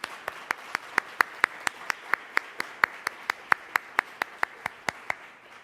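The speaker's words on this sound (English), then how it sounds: "let's give all of those sponsors and partners an incredible round of applause" Applause for sponsors and partners at a forum on new leaders in Ohio politics: a thin, evenly spaced series of about two dozen distinct claps, steady in tempo and fairly faint, with no voices.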